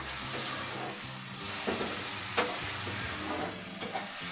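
Kadhi being stirred in a pan, a spoon scraping and swishing through the thick curry with a soft sizzling hiss underneath and a few sharper clinks, steady and close.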